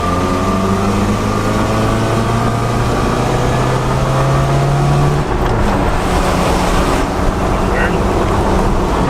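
A restored, long-abandoned old Jeep drives on the road at speed; its engine drones loudly and continuously with heavy wind and road rumble, a steady low hum shifting pitch midway as a voice speaks over it.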